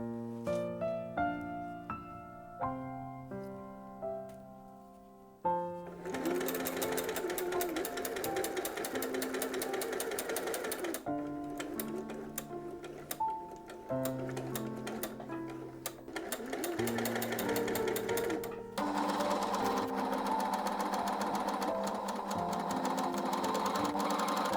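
Sewing machine stitching corset panels, its motor running in rapid mechanical bursts with short stops between runs, close and loud, with soft tonal notes under the quieter start.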